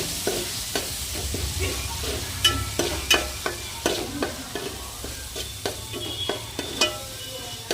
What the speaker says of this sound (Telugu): టమాటా రైస్కి టమాటాలు, అల్లం, తెల్లుల్లి, పచ్చిమిర్చి అన్నీ పోపు పెట్టాను